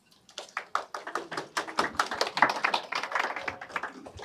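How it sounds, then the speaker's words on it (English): Applause starts with a few scattered claps and quickly builds into steady clapping from a small crowd nearby, then continues evenly. "let's give him a big applause"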